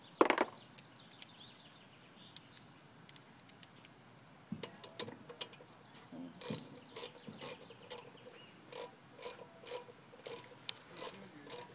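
Ratchet wrench clicking as it turns a 5/16 American-size fitting on a Snapper 4 HP small-engine carburetor during a rebuild, a near, steady run of sharp rapid clicks in repeated bursts with no talk.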